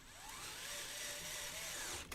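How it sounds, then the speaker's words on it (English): Power drill driving a screw during a gaming PC build, a short steady motor whine that rises slightly in pitch, fairly quiet, ending with a small clunk and no talking. "I'm going to get the drill onto that because it was hard to do it by hand."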